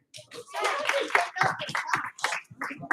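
A group claps twice for a child, sharp hand claps mixed with lively voices talking over and between them.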